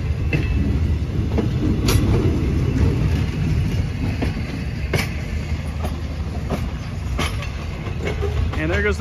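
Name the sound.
train passing on tracks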